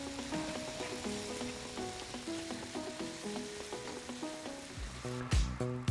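Thin-sliced cheesesteak beef fries in a pan, a steady close sizzle with light crackling throughout and a couple of stirring knocks near the end; faint music plays underneath.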